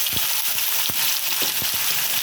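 About two spoonfuls of cumin-ginger paste hit the pan for a vegetarian aloo dum, giving a brief bright sizzle broken by a few sharp spitting pops.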